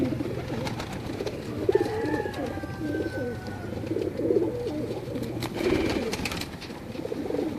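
Low, rolling coos from a flock of domestic pigeons in a loft fill the air continuously, overlapping calls with occasional brief chirps and no talk.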